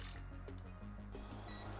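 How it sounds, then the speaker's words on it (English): Fresh water splashing and trickling into a small pot holding shrimps, a close, quiet pouring stream with small drips and gurgles, alone with no talk. "To a small pot, add the shrimps and fresh water."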